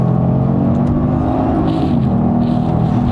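A 2018 Genesis G80 Sport with its 3.3-liter engine accelerating hard from inside the cabin, a loud, steady engine drone climbing in pitch and easing briefly as the automatic shifts.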